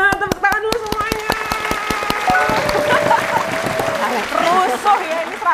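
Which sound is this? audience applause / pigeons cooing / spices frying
audience applause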